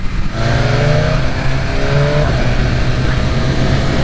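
2023 BMW S1000RR sport motorcycle with flash ECU tuning accelerating at high RPM, a loud sustained engine wail climbing in pitch with a shift partway through, no talking.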